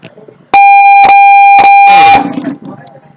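A loud electronic buzzer at a paintball tournament blares in three long bursts with brief gaps, followed by crowd noise and voices.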